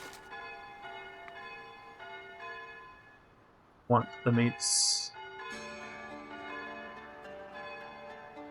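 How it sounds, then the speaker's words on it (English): Church bells ring out in the medieval building game Foundation, tolling as a series of sustained bright peals over a steady soft background, heard in a brief burst midway and then lingering as resonant ringing with a voice speaking. "Ah, the joyous sounds of church bells"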